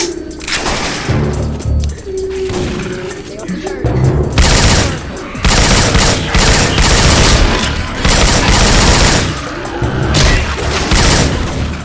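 Syphon Filter weapon sounds fire in Left 4 Dead 2, loud bursts of rapid gunfire and heavy booms coming in waves of repeated volleys, with brief pauses and voices shouting between them.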